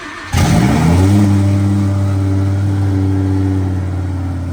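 A twin-turbo Gen II Audi R8 fires up from a cold start with a sharp catch, then surges into a loud, close rev that holds and slowly settles toward a high, steady idle.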